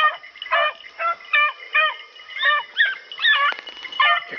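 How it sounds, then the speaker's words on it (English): Several hunting hounds running a rabbit, yelping and baying excitedly in a steady, rhythmic chorus at moderate distance, high-pitched and continuous. "Here comes the dogs."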